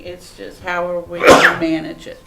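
A single sharp sneeze bursts out near the middle of a county commissioners meeting, loud and close, cutting across a person speaking.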